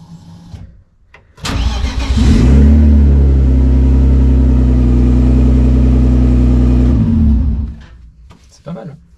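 A BMW E46 engine cranks and fires up at the push of a start button, settling into a loud, steady running note for several seconds before cutting off, with people talking nearby before and after.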